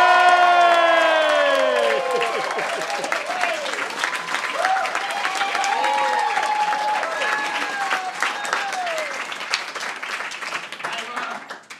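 Audience applause and cheering at a Coney Island sideshow performance, a dense clapping wash with whoops and shouts rising over it, strongest at the start and holding steadily before cutting off.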